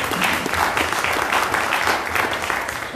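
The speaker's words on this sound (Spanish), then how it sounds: "aplausos, por favor." Steady audience applause fills the whole stretch at a panel session on reconstruction, dense and even with no voices over it.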